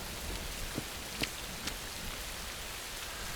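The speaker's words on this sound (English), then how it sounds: "it's raining outside" Rain falling in the Rising World game, a faint steady hiss of drops with a few slightly louder individual patters, quiet and continuous with no voices.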